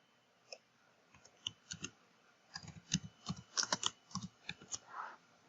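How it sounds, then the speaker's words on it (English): Rapid clicking of computer keyboard keys with repeated space bar presses, an irregular run of close, crisp taps of mixed loudness, soft and alone. "I'm just putting spaces until it puts a little bit of distance between the middle of the top one, and then I'll start typing in."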